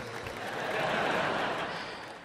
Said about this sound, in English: Oh, thank you, smattering of applause.